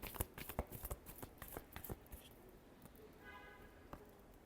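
Tarot cards riffle and slap together in a quick flurry of close, soft shuffling for about two seconds, then quieter handling, with a voice briefly speaking near the end.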